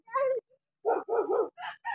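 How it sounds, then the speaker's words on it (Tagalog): A dog barks nearby in a quick run of five or six short, loud, tonal barks, separated by brief silences. "Hala, may aso."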